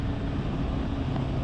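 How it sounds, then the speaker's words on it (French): Steady wind roar buffeting a rider on a Honda Hornet 1000 SP motorcycle, a dense low rumbling rush that stays constant and loud with no break or talking. "là je prends tout le vent dans le cou"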